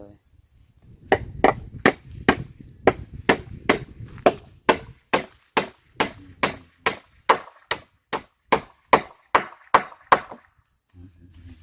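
Steady, evenly spaced hammer blows driving nails into wood, about two dozen sharp knocks in a regular rhythm, close and loud, with faint talking underneath at the start.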